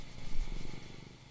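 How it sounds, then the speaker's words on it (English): A cat purrs close by in a low, rhythmic rumble that swells and ebbs across the short stretch, fairly strong at first and softening toward the end, with no talk over it. "Oh, he is a loud purr."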